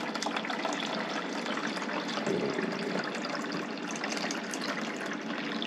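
Cold water pours steadily into the tank of an EcoFlow Glacier portable cooler, a close, continuous splashing fill with no talk.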